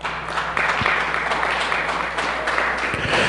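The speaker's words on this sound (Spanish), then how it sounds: "darle un aplauso al Señor por eso" A church congregation applauds, a dense, steady wash of many hands clapping at close range and fairly loud, sustained for the whole stretch.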